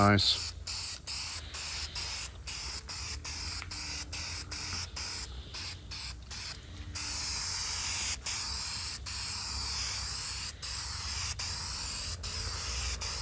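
A rattle can sprays paint onto a Pontiac 350 engine during a rebuild, giving a steady close hiss broken by a run of sharp clicks and taps.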